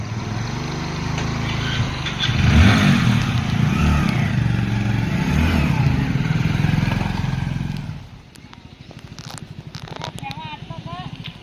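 A motorcycle engine runs at night on a roadside with a rapid, steady putter, first under loud talking and then more plainly once the voices drop.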